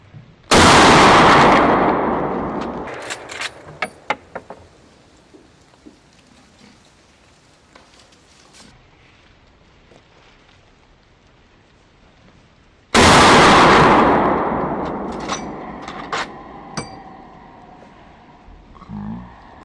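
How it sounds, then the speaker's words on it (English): Two loud gunshots from a boar hunt about thirteen seconds apart, each with a sharp blast followed by a long rolling echo fading across flat open ground, a few small pops between. "the gunshot echoed across the flat land"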